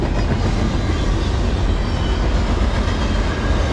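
A westbound Norfolk Southern 29G freight train, led by AC44C6M locomotive 4194 with 4302 and hopper cars, rolls past up close in a loud, steady roar of wheels and rail noise, with no pause.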